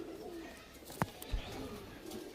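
Chini kaldum pigeons coo softly in a loft. The low cooing is faint and distant and is broken once by a sharp click against quiet room noise.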